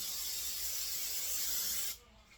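Non-stick cooking spray hisses in one steady, close burst into a baking dish before cutting off abruptly, leaving a faint room tone.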